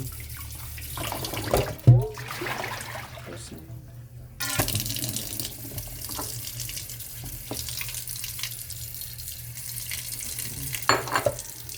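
Yellowfin tuna is washed by hand under running water at a sink, with splashing, sloshing and handling noises over a steady flow, and a voice speaks in places.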